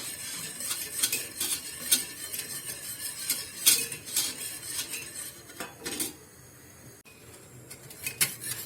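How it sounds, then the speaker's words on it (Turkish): A metal spoon stirs a pot of soup for an iftar meal, with repeated sharp scrapes and clinks against the pot in an irregular rhythm, close up and with no talk. "biraz karıştırıyorum"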